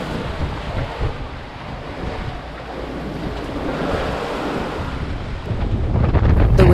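Gale-force wind over 30 knots with gusts above 40 roars across a sailboat at sea, heavy buffeting on the microphone blending with rough breaking waves, swelling louder toward the end.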